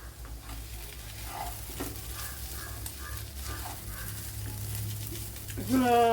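An egg mixture sizzles steadily in a pan while it is stirred, in a dish made with kovakka (ivy gourd). Frying hiss continues throughout with stirring scrapes, and a brief tonal sound rises near the end.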